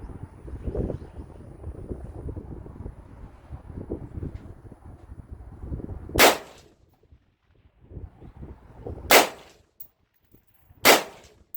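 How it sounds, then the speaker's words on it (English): Rifle shots fired at a target during a BCM versus BA accuracy comparison, three sharp, loud cracks spaced a few seconds apart, the first over steady wind noise and rumbling background, the last two in near silence. "now we're going to be shooting at the target on the left side"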